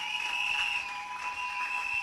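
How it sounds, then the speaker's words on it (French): Guests applaud at a civil wedding ceremony just after the ring exchange, a soft, steady patter of clapping heard faintly over a constant high electronic tone. "Veuillez l'applaudir."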